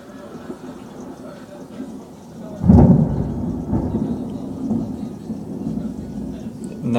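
A loud, deep rumble of thunder breaks out during a severe thunderstorm with a tornado watch in Texas, rolling on heavily for several seconds after the initial crack, with rain in the background.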